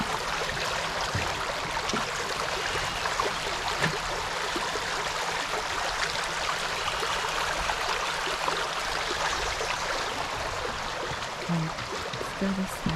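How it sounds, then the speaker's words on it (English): Running water of a stream flows beneath a bridge in an Arizona park, a steady broadband rush close by, with faint scattered sounds in the background. "I hear running water."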